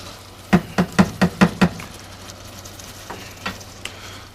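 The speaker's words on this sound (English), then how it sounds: "You hear that nice sizzle." Garlic and peppers sizzle softly in a pan while a utensil knocks six quick times against it, followed by a few scattered lighter taps.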